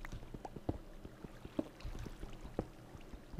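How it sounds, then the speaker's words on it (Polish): Water in a Minecraft cave trickles and gurgles faintly and steadily, with a few soft plinks and taps at intervals, distant and quiet. "Jakąś wodę słyszę."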